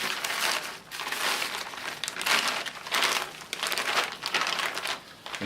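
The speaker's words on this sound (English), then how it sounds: "From here we place all of this into the transit bag." A plastic transit bag for a urine chain-of-custody lab sample being handled and sealed gives steady, close crinkling and crumpling in uneven bursts for several seconds, with no speech.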